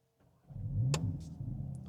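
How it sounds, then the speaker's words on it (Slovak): A 2026 VW Golf GTI Clubsport engine starts after a short silence, catching with a loud burst and climbing into a brief rev before settling into a steady, close idle. "Auto vyšteklo viac s tými otáčkami, aj si to odplylo do výfuku"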